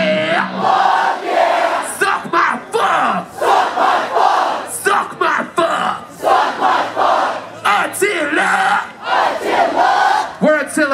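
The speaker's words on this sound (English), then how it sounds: "Let me hear you say, hell yeah." Large crowd at a live Vans Warped Tour metal show, heard as loud, repeated group shouts of a chanted phrase in bursts over about eleven seconds, answering a call from the stage, with crowd roar filling the gaps.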